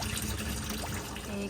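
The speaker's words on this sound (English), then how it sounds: "we've got the hot water running and there's plenty of steam coming off" Hot water runs from a tap in a 2013 Auto-Trail Tribute T-715 motorhome, a close, steady splashing flow into a sink.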